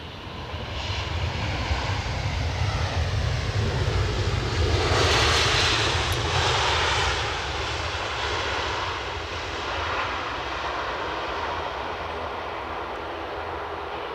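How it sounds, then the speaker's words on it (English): A Boeing Dreamliner jet airliner roars at Edinburgh airport, a loud sustained engine drone that swells in the middle and then eases, heard outdoors at a distance with no talking. "Dreamliner alert."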